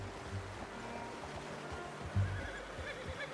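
A horse whinnies in Red Dead Redemption 2, a short neigh rising over a low ambient bed of water and outdoor game sound, with no talk.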